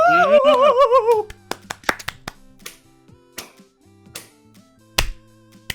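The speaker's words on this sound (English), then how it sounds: "We're doing the walls and ground clap." Hands clap against walls and the ground in a rhythmic routine, a string of sharp, close slaps and taps with uneven gaps, opening with a brief wavering vocal cry.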